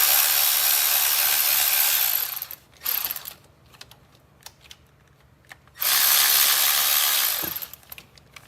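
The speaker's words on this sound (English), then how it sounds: "we're just going to concentrate on getting these bolts out without losing them" A ratchet removes bolts from the coolant bypass valve on a 2013-2016 Ford Escape 1.6L EcoBoost. Two long, loud, fast clicking runs are split by a short burst, quiet tool handling and faint clinks.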